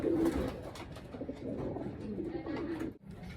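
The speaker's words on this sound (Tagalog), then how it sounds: "ayan mga kalapatids, as of 8:26 ng umaga, andito na yung mga ibon natin" Homing pigeons coo steadily in low, throaty murmurs, several birds close by, with a soft rustle of the flock around them, in the morning.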